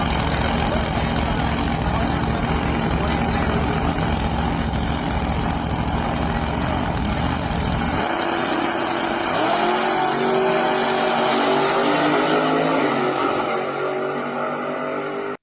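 A loud car engine revs at a drag racing event, a sustained roaring drone close by that shifts to a rising, changing pitch partway through, with no break in the noise.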